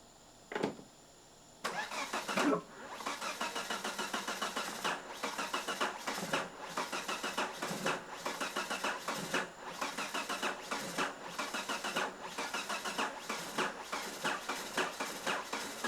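A Volvo S60R engine cranks over and over with a rapid, rhythmic churn, coughing briefly as it tries to catch, loud and close after a short pause at the start, with no talk.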